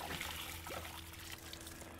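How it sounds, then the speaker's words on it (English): Water trickles and splashes over freshly transplanted hostas in a garden, a steady faint pouring sound with no talking. "You gotta water these really well too."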